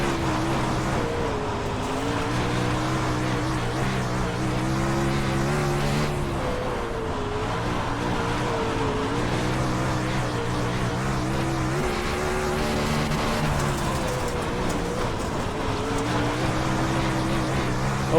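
A winged sprint car in the iRacing simulator drones steadily around the track, its engine note holding a loud, continuous tone that wavers slightly as the throttle rises and eases through the laps.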